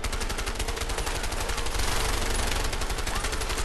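Rapid, continuous automatic gunfire in the video game A Way Out, a loud dense burst of shots running the whole time with a brief heavier stretch midway.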